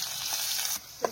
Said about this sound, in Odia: ଫୁଟଣ ଟିକେ ଫୁଟି ଆସିଲେ ପିଆଜ ବି ଏବେ ପଡ଼ିଗଲା ଦେଖନ୍ତୁ